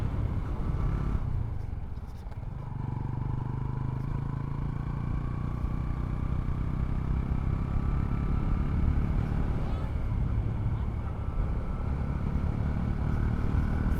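Motorcycle cruising in fifth gear on a ride near Panvel, a steady low engine drone with road and wind noise running throughout, dipping briefly early on, with someone talking over it at times.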